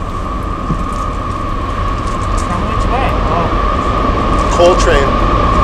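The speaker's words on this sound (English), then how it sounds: "It's just a train hauling ass." A coal train rumbles past at steady volume, a low constant roar with a droning tone, and faint voices talking underneath.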